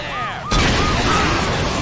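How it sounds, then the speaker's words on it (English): Explosions in the Saints Row video game, a loud, sudden boom that cuts in and sustains as a thick, rumbling roar over a faint whistling tone. "A few more explosions."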